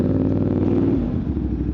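A motorcycle about two months old revs and rides close by, its engine a steady, loud low drone with a slight rise and fall throughout.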